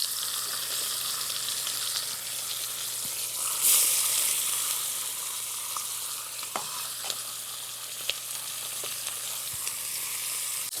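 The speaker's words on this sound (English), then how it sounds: "Even as I'm browning that side, I move it to the side of the pan, and now I'm going to throw my onions right there in the bottom" Pork sirloin and onions frying together in a pan, a loud, even sizzle that swells briefly, with a few light clicks and scrapes of a utensil, close up and free of talk.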